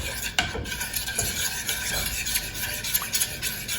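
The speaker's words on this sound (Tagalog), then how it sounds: "Let's just keep on stirring, okay?" A starchy tapioca mixture for boba pearls is stirred in a pan over medium heat, giving a steady scraping and clinking of a utensil against the pan with soft sizzling throughout, close up and with no talking.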